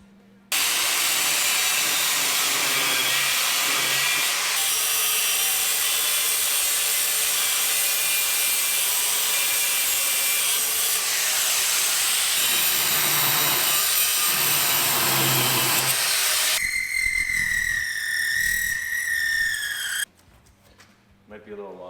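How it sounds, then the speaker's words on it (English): Angle grinder cutting off screws on an 8-ton float trailer, a loud continuous harsh grind lasting most of the time, shifting in pitch as it bites, then cutting out near the end. "we got to grind off just these screws, so we'll get going on that"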